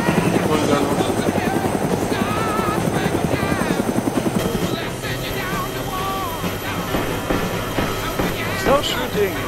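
A helicopter in a video game flies with a loud, rapid rotor thump and engine whine throughout, with players talking over it.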